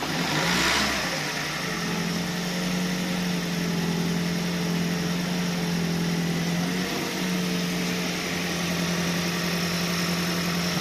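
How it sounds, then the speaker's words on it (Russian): A Toyota Voxy hybrid's engine catches with a quick rev, then settles into a steady, even idle hum that runs on close by. "Двигатель работает."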